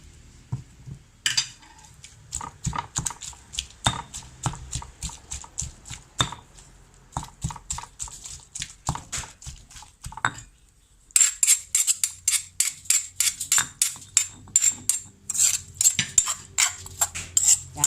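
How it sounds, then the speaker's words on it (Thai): Pestle pounding chili paste mixed with shrimp paste in a mortar for a northern Thai minced-pork chili dip, with a steady run of sharp knocks and clinks that grows louder and brighter in the later part. "เขาตำได้ประมาณนี้แล้วเราก็ใส่กะปินะเจ้า"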